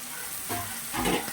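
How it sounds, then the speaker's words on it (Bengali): Potatoes frying in oil for vegetarian aloo dum, a soft steady sizzle with gentle stirring, fairly quiet and close. "তো ভালো করে ভাজতে হবে, অলরেডি একটু কষাই করতে হবে।"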